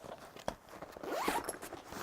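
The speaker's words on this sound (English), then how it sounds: "Inside, you get the zipper on the top." A zipper on the top interior compartment of a OnePlus Explorer backpack is pulled open in a quick, close, raspy run of ticks with a soft tap just before.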